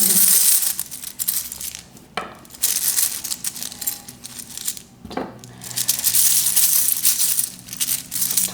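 A die is rolled during a tarot-style love card reading, clattering and rattling in several loud, close bursts across a hard surface, with quieter gaps between the throws.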